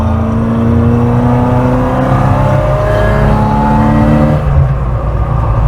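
An Opel Manta B2 16v engine revs and accelerates steadily, rising in pitch through the gears with an unhappy gearbox, a brief dip near the end before carrying on loud and close.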